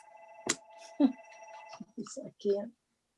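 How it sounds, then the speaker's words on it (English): A telephone rings with steady electronic tones during a stroke recovery group's Q&A session, then fades as someone begins talking nearby. "I just can't seem to stop this phone from ringing today."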